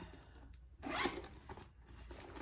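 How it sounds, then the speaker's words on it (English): Zipper on a sewn triple-zip crossbody bag being opened, several quiet close rasping pulls with one longer, louder zip in the middle. "So you have a huge zipper here, zipper pocket."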